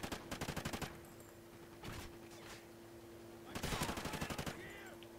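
Rapid bursts of automatic gunfire from Call of Duty Ghosts ring out in a quick string, fall quiet, give a single short shot, then return as a second fast volley, loud and close.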